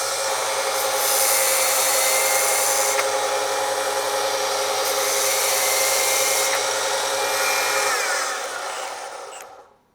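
A drill spins an abrasive belt to grind a tungsten electrode, a steady whirring rub that runs loud and even for about eight seconds before winding down and stopping.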